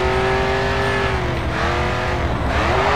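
Race car engine in the Grid 2 video game revving hard and continuously, its pitch rising and dipping through gear changes, with tire squeal as the car slides, loud and close throughout.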